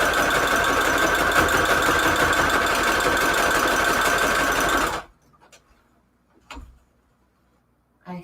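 A sewing machine runs steadily, loud and close, in a continuous mechanical whir for about five seconds and then stops abruptly, leaving only faint scattered handling noises afterward.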